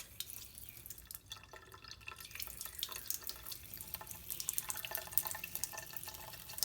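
Cold water running from an Insinkerator InstaHot faucet into a sink, a steady hissing, splattering stream with dripping, close and continuous without talk.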